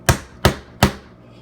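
Nails are hammered into a wooden frame from a beehive kit, three sharp, loud strikes evenly spaced about four tenths of a second apart, each ringing briefly.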